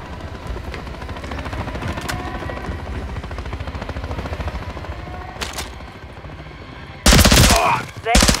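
Helicopter rotor drone with machine gun fire in the Call of Duty: Modern Warfare III video game, a steady dense rattle of gunfire over the chopping rotor, ending in a loud sudden burst of close explosive noise.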